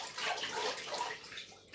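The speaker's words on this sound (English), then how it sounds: "I'm just going to rinse it," Water splashes and runs in a basin as washed cassava is rinsed, a steady close sloshing that fades near the end.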